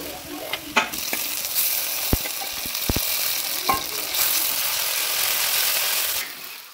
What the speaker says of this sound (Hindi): तेल हमारा गर्म हो चुका है, डाल दिया है जीरा, उसके बाद प्याज